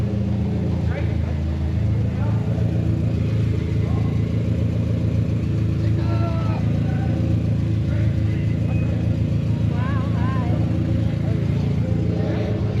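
A Honda car engine idles and revs at a car meet, a steady close rumble throughout. People talk over it nearby.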